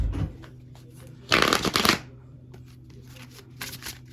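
A deck of cards being shuffled up close: a quick riffle burst followed by softer flicking and a second short riffle near the end, heard alone.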